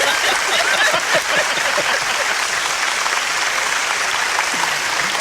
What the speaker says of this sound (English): Brought the entirely wrong energy for that applause.